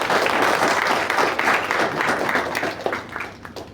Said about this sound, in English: Let's give a big round of applause for her.